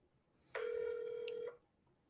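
One quiet telephone ring tone lasting about a second sounds on an outgoing cold call, set against near silence.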